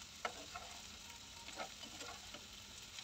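Bitter gourd, eggplant and potato fry in a pan, giving a faint, steady sizzle with soft stirring scrapes now and then and no talk.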